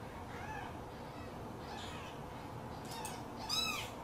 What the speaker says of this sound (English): Say meow. Say meow. Say meow.